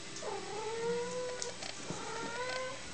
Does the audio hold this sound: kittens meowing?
yes